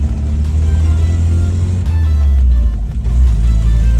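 A 1984 Toyota Hilux 4x4 engine drones loudly and steadily from close by while driving, with a brief dip around a gear change into third.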